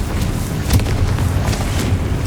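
A Confringo fire spell bursts in Hogwarts Legacy, a loud booming blast with a rumbling low-end tail, surrounded by dense combat noise and no speech.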